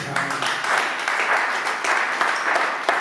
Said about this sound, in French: Est-ce qu'on peut acclamer pour notre Dieu?